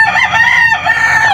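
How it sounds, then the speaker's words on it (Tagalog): A chicken sick with a cold makes a rattling, phlegmy wheeze, a short loud strained call close by with a raspy tonal edge. "Usually hindi naman ganun kalakas ang hagok ng manok."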